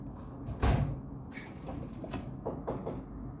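A door opens or closes somewhere in a room, giving one soft thud followed by a few faint clicks and rattles, quiet and somewhat distant.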